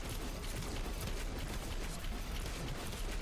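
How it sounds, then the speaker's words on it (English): A dense, continuous wall of explosive crackle and rumble from the bullet-heaven video game Arms of God, loud and unbroken throughout with no voice. "That explosion is ridiculous."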